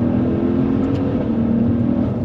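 A Maserati Levante Trofeo SUV engine revs loudly and steadily, a dense, continuous roar that holds for a couple of seconds with no voices over it.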